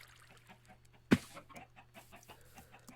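Chickens on an egg farm in a video game cluck softly in scattered bursts, with one sharp loud knock partway through and a faint steady hum underneath.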